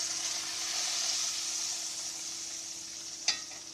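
Sausage frying in a pan gives a steady sizzle throughout, with a brief sharp clatter near the end.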